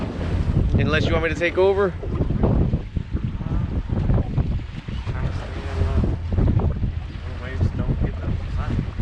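Wind buffets a 16-foot boat out on a lake, a steady broadband rush and low rumble running throughout while people talk over it.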